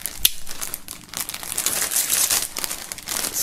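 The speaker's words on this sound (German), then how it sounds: "Allerdings holen wir nochmal kurz das Shirt hier aus der Folie." Plastic wrap crinkles and crackles as a shirt is pulled out of its packaging, a close, busy run of sharp rustles with one louder snap near the start.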